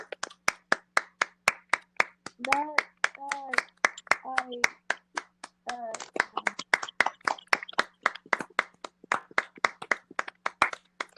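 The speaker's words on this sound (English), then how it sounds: "You can stop clapping now. Sorry, I gave a standing ovation." A lone person clapping in a sharp, steady rhythm of distinct hand claps, with a voice talking briefly between them.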